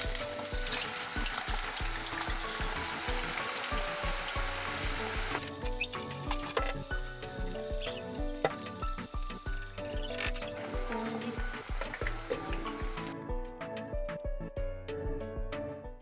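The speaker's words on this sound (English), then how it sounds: "Fry the potatoes." Potatoes fry in a pan, giving a steady, loud sizzle that runs the whole time, with scattered sharp crackles and a few soft clinks, the hiss thinning slightly toward the end. No one speaks.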